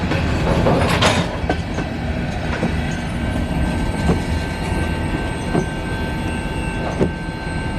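The last cars of CN freight train L521 roll eastbound past the listener at Battle Creek, Michigan. Wheels rumble loudly and steadily, with rhythmic clickety-clack beats over the rail joints and a faint high whine throughout.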